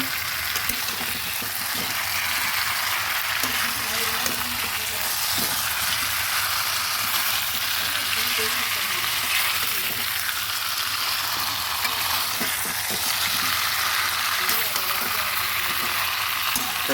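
Large papaya pieces frying in a desi chicken curry (deshi murgir jhol) give a steady, close sizzle with a hiss that holds level throughout, with occasional faint stirring clicks.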